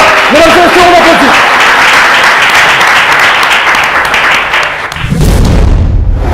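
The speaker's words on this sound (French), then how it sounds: "mesdames et messieurs, on applaudit." A studio audience claps loudly on a cooking show after a countdown, with voices calling out over the applause. A heavy low thump near the end cuts it off.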